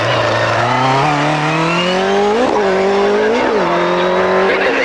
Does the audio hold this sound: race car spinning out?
yes